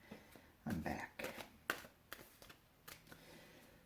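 Tarot cards being shuffled up close, a series of quick, soft riffling and slapping bursts at low volume with brief pauses between them.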